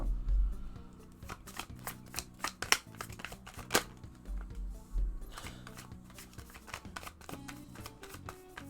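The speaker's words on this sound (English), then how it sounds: "I'll shuffle now." Tarot cards being shuffled close up, a series of crisp riffling and tapping bursts with short pauses between them, alone without talk.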